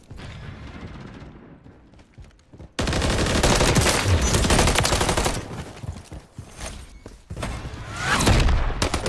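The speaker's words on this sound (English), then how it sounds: "I'm trying to use my submachine gun." Submachine gun fire in Call of Duty MW3 ranked play comes in dense, sustained rapid bursts with a faint stretch, then a loud continuous volley, a brief dip, and another heavy burst.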